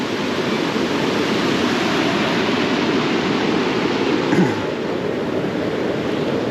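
River water flowing steadily beside a trail in Zion National Park, a dense even rushing wash throughout with a brief faint knock near the end.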